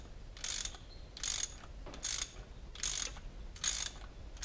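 A stud extractor is turned to pull a stud from the cylinder head of a Land Rover Defender TD5, giving five evenly spaced bursts of ratcheting clicks, close and without talk.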